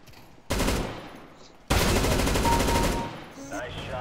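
Rapid automatic gunfire from the Counter-Strike: Global Offensive video game comes in two loud, dense bursts, a short one and then a longer sustained one, with faint game sounds in between.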